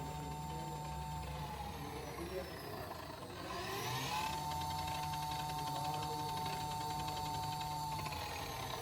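A Honda Benly e electric motorcycle motor whine hums steadily, dips briefly, then rises again and holds a constant high-pitched tone with a faint buzz.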